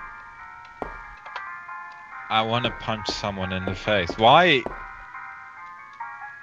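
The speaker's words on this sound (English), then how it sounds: "I can understand that they were going for gramophone sounds like this" Tinkling, music-box-like tune with a gramophone feel from the Alone in the Dark video game, playing softly throughout while game voices speak over its middle.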